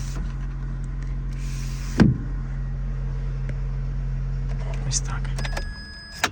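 The electric sunroof of a VW Caddy 1.6 petrol van opens with a steady low motor whir lasting several seconds, starting after a sharp click and ending with a soft stop, heard close inside the cabin with some quiet talk.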